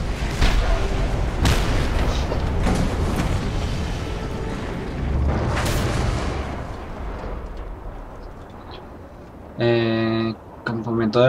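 In the Mad Max game, heavy booms and blasts roll through as pumps are destroyed, with sharp impacts repeating, then fade into rumbling before a voice speaks near the end.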